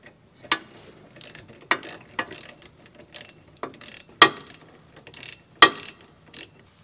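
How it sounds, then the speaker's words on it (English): Ratchet clicking in short bursts while tightening caliper bolts on a Volvo brake system (S60, S80, V70, XC70), fairly close, with pauses between strokes and sharper clacks near the end. "Now tighten your caliper bolts."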